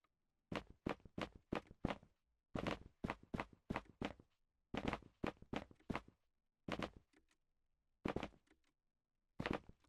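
Character footsteps in a video game, a clean run of crisp, evenly spaced steps in short bursts with brief pauses between them, close and alone with no talk.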